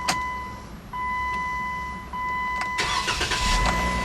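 A 2012 Jeep Wrangler Unlimited Sport's 3.6-liter Pentastar all-aluminum DOHC V6 cranks briefly and catches, settling into a rough idle before revving up loudly near the end, with a steady electronic tone beneath.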